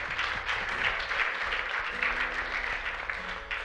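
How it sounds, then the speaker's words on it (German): A church congregation applauds the pastor, a broad wash of clapping with a low steady tone or hum underneath, fairly even throughout with slight swells. "Würden wir von dir nicht mal einen Applaus geben für seine Arbeit."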